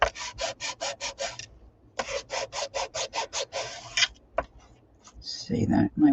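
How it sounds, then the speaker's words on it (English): A playing card being sanded for an ATC craft, a close, dry rasping in quick rhythmic strokes: two bursts of about eight strokes each, then a few isolated scrapes, with a voice speaking at the end. "Now this little bit of sanding may not really"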